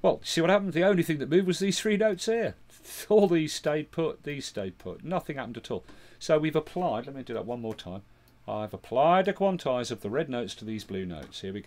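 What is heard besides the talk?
No everyday noise stands out behind the speech.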